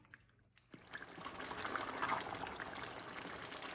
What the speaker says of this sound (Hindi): पालक डाल के गोश्त के साथ इसको 10 से 15 मिनट और पका लेते हैं।